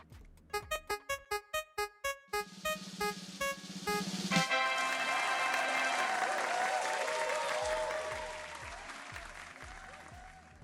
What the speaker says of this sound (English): But round of applause!